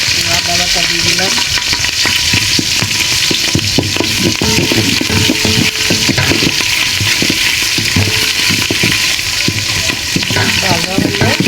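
Cardamom, cinnamon, green chillies and ginger paste fry loudly in a pan, a constant close sizzle broken by repeated scraping and clattering strokes of stirring.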